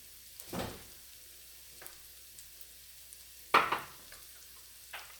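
Food, likely frozen broccoli for a creamy broccoli ravioli sauce, sautes in a pan with a faint, quiet sizzle. A few short stirring scrapes break through, the loudest about two-thirds of the way in.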